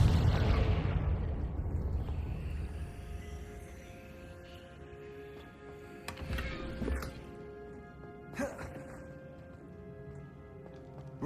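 A Confringo blasting spell goes off in Hogwarts Legacy, a loud, close burst at the very start that rolls into a long fading rumble, followed later by a few softer clanks and game effects.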